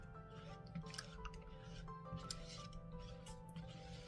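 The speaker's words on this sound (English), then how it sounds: "Mix this until it really incorporates together." A liquid probiotic shake for a SIBO diet being stirred and mixed, giving faint, soft drips and wet squishing sounds in a quiet room.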